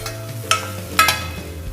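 Garlic frying with onions in a pan sizzles under two sharp stirring scrapes that come about half a second apart, close and fairly loud.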